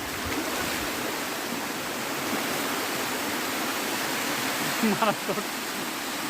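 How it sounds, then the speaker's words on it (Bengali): A multi-tiered forest waterfall flowing, a dense steady rush of water close by that fills the whole scene, with a brief voice and a few splashes near the end. "আমরা একটার পর একটা ঝর্ণা অতিক্রম করছি।"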